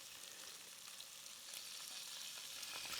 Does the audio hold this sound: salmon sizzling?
yes